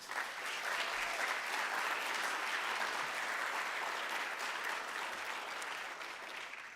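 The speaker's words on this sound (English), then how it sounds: "Let's give our staff, our volunteers, and everyone a big round of applause." An audience applauds city staff and volunteers at a city event, a dense, sustained wash of clapping from a large crowd that holds steady and fades slightly at the end.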